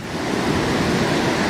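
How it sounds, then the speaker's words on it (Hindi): The fast, heavy flow of the Mandakini river at Rambara bridge on the Kedarnath trek makes a loud, constant rushing roar, close and unbroken, with no speech. "जो मंदाकिनी का पानी का फ्लो है ना, बहुत ही ज़्यादा है।"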